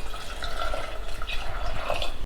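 Water splashes and gurgles into a metal pressure cooker holding lentils in a short, steady pour, close and fairly loud.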